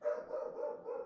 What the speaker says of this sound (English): You can hear my little dog barking in the background.